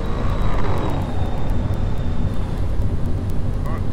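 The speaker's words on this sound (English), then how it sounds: "Now these airplanes in this game, they turn real funny while they in flight." An airplane engine drones steadily in flight in a driving video game set between Yuma and Kingman, Arizona, a loud continuous hum with a faint high whine fading out, no talking.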